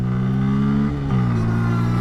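A Bajaj Pulsar N160 motorcycle accelerates toward 60 for a front brake test, its engine holding a loud, steady drone close by with a brief dip and shift in pitch around the middle.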